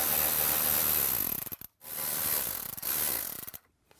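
A ratchet clicks rapidly while backing out screws from interior trim on a Jeep Wrangler, two steady bursts of close, loud ratcheting separated by brief pauses, with no talking.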